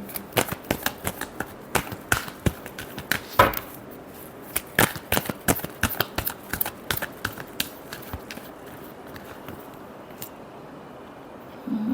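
Tarot cards are handled and shuffled in irregular soft flicks and slaps against a quiet room hiss, close by, with no talking.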